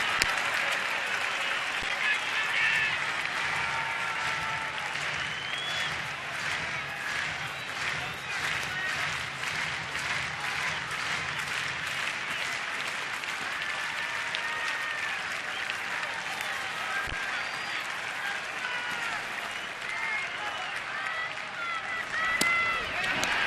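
Loud, sustained cheering from a baseball stadium crowd during a tense at-bat, a dense roar filling the whole stretch with steady rhythmic clapping, while a commentator talks over it.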